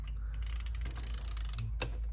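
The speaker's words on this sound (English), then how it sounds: "So gently tighten them down one at a time and don't make them tight. Just put a couple turns on each bolt as you go." Ratchet tightening camshaft cap bolts on a 1FZFE cylinder head, a quick, close burst of crisp clicks over a low background hum.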